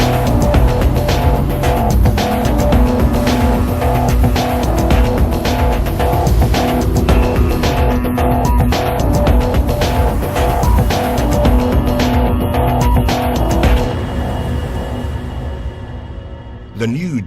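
A Rolls-Royce Cullinan SUV drives a snowy glacier road, giving a loud, steady engine and road rumble throughout, with a voice talking over it.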